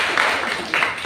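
Brief burst of classroom applause, many hands clapping close by for about a second, swelling twice.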